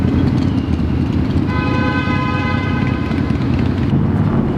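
Dense city traffic roars steadily close by as a SkyTrain passes, its horn or wheel squeal ringing out as a tonal whine for a couple of seconds above the constant rumble.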